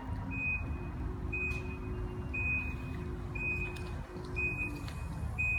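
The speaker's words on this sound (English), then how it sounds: "At the rear of the vehicle, we have a power lift gate, which you can gain access to via the remote." A 2016 Infiniti QX80 power liftgate sounds a steady series of about six evenly spaced high beeps while opening by remote, over a low steady background hum.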